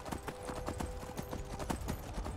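A horse's hooves in the video game Skyrim clip-clop in a quick, steady rhythm, fairly close and moderately loud, with no talking.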